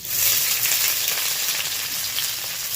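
Chopped onion frying in a pan, a loud, even hiss of sizzling oil like heavy rain, constant from start to finish with no voices.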